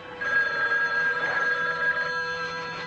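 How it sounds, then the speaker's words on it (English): A telephone bell ringing steadily and fairly loudly throughout, a sustained trill with no talk, from the trailer for the 1980 horror film Don't Answer the Phone. "don't answer the phone."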